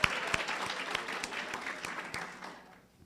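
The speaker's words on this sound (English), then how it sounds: "Let's give them a round of applause." Audience at a symposium dinner event applauding the caterers, a moderate round of clapping with distinct hand claps that thins and fades out toward the end.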